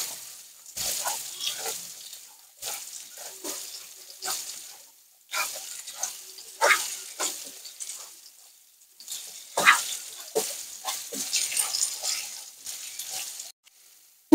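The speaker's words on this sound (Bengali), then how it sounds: "এটাকে ভালো করে নেড়ে চেড়ে নেব মশলাগুলো" Salt, turmeric and Kashmiri chilli powder being stirred in a frying pan, heard as bursts of sizzling and spatula scraping that come and go between short quiet gaps.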